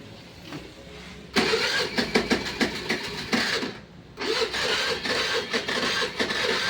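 A Honda Activa scooter engine with a starting problem fires up and runs roughly with uneven pulsing revs, cuts out briefly into near silence, then restarts and keeps running unsteadily, close and loud with no talk.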